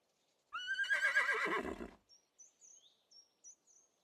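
A horse gives one loud, close whinny lasting over a second, with rising and falling pitch and a snort-like tail, followed by faint bird chirps in a quiet outdoor setting.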